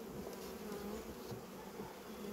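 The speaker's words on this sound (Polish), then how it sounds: "Tu już jest całkiem fajna liczba pszczół." Honeybees hum in a steady, low buzz at the hive during a late colony relocation on a warm day, a soft continuous drone with individual bees passing close now and then.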